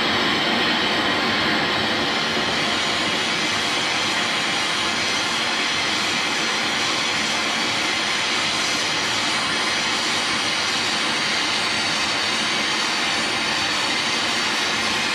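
A gas torch roaring steadily as it heats bolts red hot on the cylinder of a vintage Ransomes Marquis mower, a loud, unbroken broadband hiss close by.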